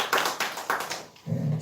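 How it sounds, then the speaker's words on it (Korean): A small church congregation at a thanksgiving service claps, a few sharp, scattered claps followed by a short low hum of voices. "우리 박수 한번 할까요?"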